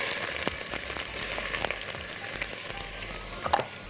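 Onions frying in oil in a pot, a steady close hiss of sizzling with faint scattered crackles and a few louder pops near the end, no voices.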